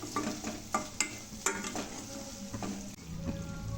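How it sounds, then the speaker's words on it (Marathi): Coriander powder and chaat masala sautéing in a pan, a faint constant sizzle with light scraping and tapping of a spoon stirring at irregular intervals. "1 चमचे धनिया पावडर आणि थोडीशी चाट मसाला हे व्यवस्थित परतून घ्यायचे।"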